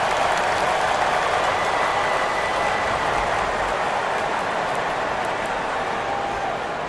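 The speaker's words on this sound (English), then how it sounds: "Fans, please give a big round of applause" A large crowd in the basketball video game WNBA 2K23 applauds and cheers continuously after a three-pointer, a dense steady wash of clapping with no break.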